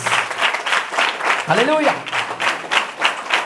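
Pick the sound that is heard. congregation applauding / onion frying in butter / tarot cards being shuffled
congregation applauding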